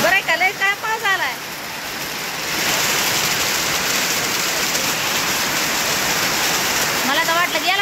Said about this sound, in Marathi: लय काय पाऊस आलाय.